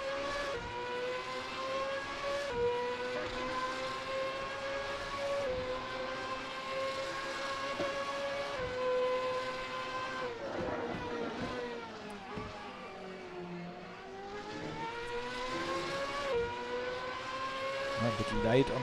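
Formula Masters single-seater race cars lapping the Red Bull Ring, with a steady high-pitched engine whine that rises and falls through gear changes and braking into a corner, carrying on throughout under a commentator's voice.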